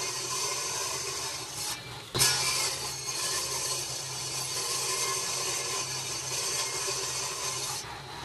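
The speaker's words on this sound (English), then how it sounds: "I used a belt jigsaw and belt sander to get this template" Power tools work a wooden template for a DIY skate ramp, a jigsaw and belt sander giving a steady rasping, grinding drone with one sharp knock about two seconds in, continuous and close, with no talking.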